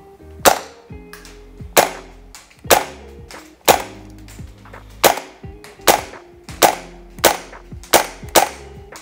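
A Krytac Kriss Vector gas blowback airsoft rifle fires 0.28 g BBs at 145 PSI on a shooting range. Single sharp cracks, each with a short metallic clack, come at a steady rhythm of about one per second, loud and near.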